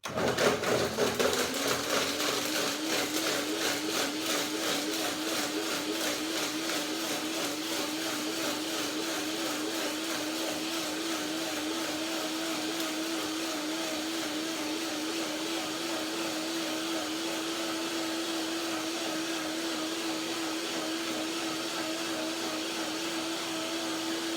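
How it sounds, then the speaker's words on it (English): A kitchen blender whirs while making orange date cream, giving a steady, unbroken motor whine for the full length, close and moderately loud, with no talking. "First, the blender then is for my orange date cream."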